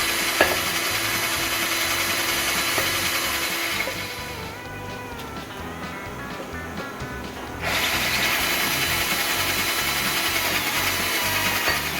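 A power drill bores through metal rivets on the upper control arm of a 1977 C3 Corvette, lubricated with WD-40, a steady close whine that dips briefly mid-way as the bit bites, then resumes at full pitch.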